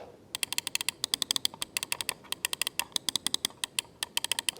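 Rapid, crisp clicks from the buttons of a Glorious Series One Pro gaming mouse, dozens of sharp taps in quick uneven bursts, close and clear with no talking.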